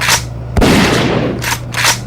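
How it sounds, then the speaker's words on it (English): A single sharp gunshot from a firearm in a dramatic monster fight scene, a loud close crack with a heavy low boom and short rumbling tail, set between brief bursts of noisy background sound. "a gunshot rang out"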